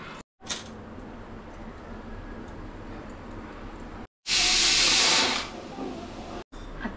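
A gas stove burner is switched on under a pressure cooker, giving a loud steady rushing hiss for about two seconds that then cuts off, over a background hum.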